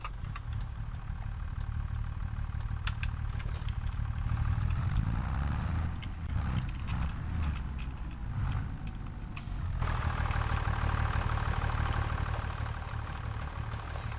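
A tractor engine idling in a 1990s-era farming video game, with a steady low rumble holding for the whole stretch and a slight shift in tone partway through, with no speech.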